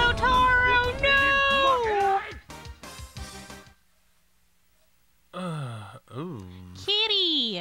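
Cat meowing in a JoJo's Bizarre Adventure Part 3 fighting game, a high drawn-out mew over game music and voice effects, a silent gap, then several more rising and falling meows.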